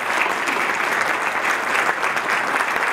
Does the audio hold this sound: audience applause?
yes